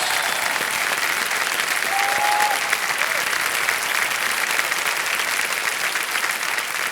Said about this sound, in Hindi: तालियां बज जाएं